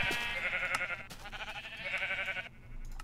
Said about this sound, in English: I'm doing a sheep farm where I can get every type of wool, every color.